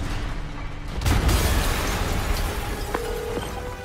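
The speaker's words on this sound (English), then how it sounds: "Yuri, an explosion just..." A muffled explosion in Spider-Man Remastered on PS5 sets off a loud low rumbling boom about a second in, which fades into a sustained roar with a faint tone near the end.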